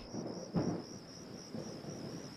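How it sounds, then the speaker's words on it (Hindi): Rain patters softly with a low rumble of thunder, while a steady insect chirp hums in the background; quiet and distant. "बारिश आ गई"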